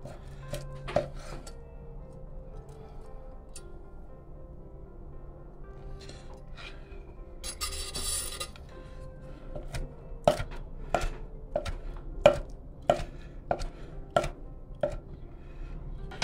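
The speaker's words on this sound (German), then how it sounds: "Dann schneiden wir uns nun das Fleisch vom Spieß." Knife slicing shawarma meat off the spit: sparse cuts at first, then a steady series of sharp chopping knocks on a board close by, with quiet kitchen background and no talking.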